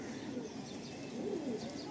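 Pure Kalasabuj pigeon, a male of old bloodline, cooing softly in a low, rolling murmur that swells a few times across two seconds against a steady background hum.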